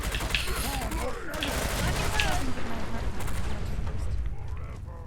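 Gunfire in Fallout 4, rapid bursts of shots fired in quick clusters over a dense, busy background of combat noise, loud and close throughout.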